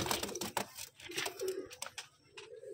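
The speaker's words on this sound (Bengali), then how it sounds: "দেখুন এই হচ্ছে পায়রা, যে পায়রা 1 নম্বর ভাইকে গিফট করা হবে বলেছিলাম" Pigeons being shown as a gift, out in sunlight, coo and flutter nearby amid bursts of handling noise and soft rustling, with low calls rising briefly in the middle.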